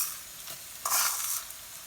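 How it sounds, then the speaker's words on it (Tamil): Onions sauté in a pan for fish curry, giving a short, soft sizzle that swells briefly with a stir and then fades back. "இப்போ வெங்காயம் வதங்கி இருக்குது."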